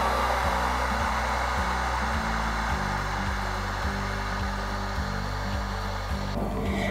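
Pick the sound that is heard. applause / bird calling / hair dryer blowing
hair dryer blowing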